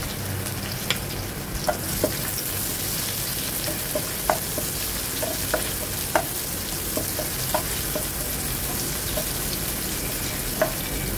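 Onion sautéing in a hot pan for pork pata balbacua, a steady close sizzle with occasional crackles and light utensil taps over it, no talking.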